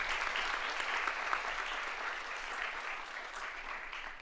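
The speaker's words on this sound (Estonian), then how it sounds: "Teeme Marie Eikele veel ühe suure aplausi." Steady applause from a conference audience at a young nature conservationist award ceremony, a dense even clatter of many hands holding level for about four seconds without talk.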